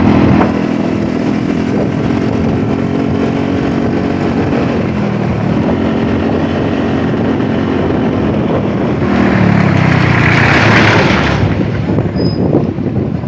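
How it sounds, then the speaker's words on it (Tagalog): A passenger jeep passes in heavy rain in Quezon Province, its loud, rattling engine droning close by, its pitch shifting as it passes, with a whooshing surge of noise near the end. "Yung pasaherong jeep."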